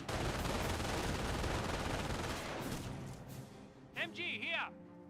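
Dense, continuous battle gunfire from Company of Heroes fills the first few seconds, rattling bursts thinning out as a voice briefly cuts through near the end.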